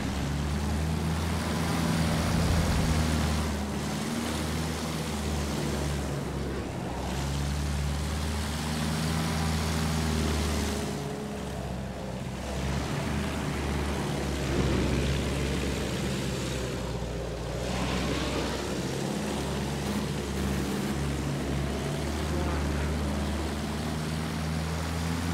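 Sustained propeller aircraft engine at open throttle in the World War I game Battlefield 1, a steady loud drone with low harmonic hum and no speech.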